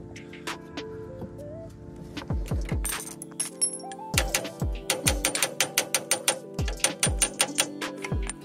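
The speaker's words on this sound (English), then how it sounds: "next, I believe, is just to loosen up these top bolts" A ratchet clicks rapidly while loosening the top bolts on a 2013 Ford F-150 during a 2-inch front leveling kit install, with close metallic clicking in quick runs and a few scattered clinks.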